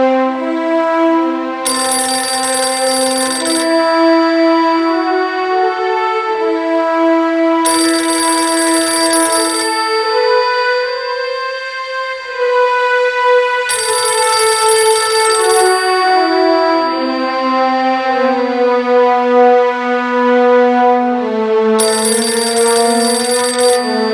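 A melodic phone ringtone plays loud and close in a dubbed Tamil short film scene, its tune repeating in steady cycles of rising and falling tones with no voices over it.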